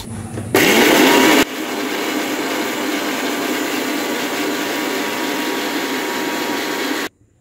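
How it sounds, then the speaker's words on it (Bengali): A mixer grinder blends teasel gourd seeds, green chilli and salt, starting with a brief, very loud high-pitched burst, then settling into a steady whirring grind for about six seconds before cutting off abruptly. "কাঁকরোলের ভিতরের যে খোসাগুলো হয় সেগুলো আমি এখন মিক্সিতে দিয়ে বেটে নেব।"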